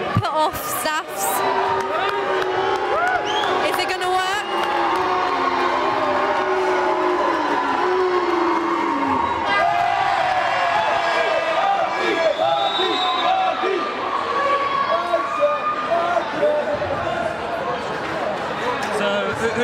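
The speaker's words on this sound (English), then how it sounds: "Crowd's trying to put off Staffs." Crowd noise at a men's varsity basketball game, a steady roar of voices and shouts trying to put off the opposing Staffs team late in the game, with a commentator talking over it.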